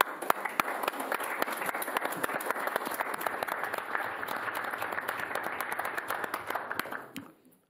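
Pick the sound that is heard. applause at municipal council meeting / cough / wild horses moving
applause at municipal council meeting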